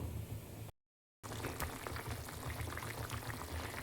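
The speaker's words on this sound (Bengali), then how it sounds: "যতক্ষণ ফুলকপি আলুটা বয়েল হচ্ছে, সেদ্ধ হচ্ছে" Cauliflower and potatoes boiling in water in a pot, a steady bubbling hiss that carries on without pause apart from one short silent gap, quiet and close with no talking.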